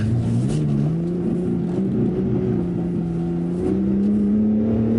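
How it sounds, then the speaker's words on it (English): A BMW G80 M3 Competition xDrive engine revs hard with rising pitch under sustained full-throttle acceleration, loud and close, with faint popping crackles from the exhaust. "It's doing little exhaust farts as it's like a blip."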